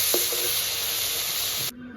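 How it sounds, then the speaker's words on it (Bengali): Remaining turmeric- and salt-coated lata fish frying in hot oil, a steady loud sizzle with a few stirring clicks that cuts off sharply near the end. "বাকি মাছটাও ভেজে নিচ্ছি।"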